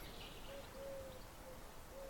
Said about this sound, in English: Should be able to hear the pigeon.